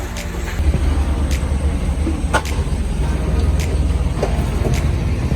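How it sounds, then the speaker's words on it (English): A motorbike rides through the back streets of ShiYan in China, its engine a steady, loud low drone with wind rush and passing traffic noise, and no speech. "So we're motorbiking through the back streets of ShiYan"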